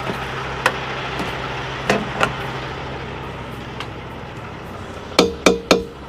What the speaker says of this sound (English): get our trusty hammer, start whacking some wheels here.